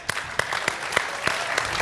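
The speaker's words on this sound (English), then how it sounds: "Round of applause for them." Applause from a conference audience greeting a panel of commercial real estate brokers, steady broadband clapping with a few sharper individual claps standing out, moderately loud throughout.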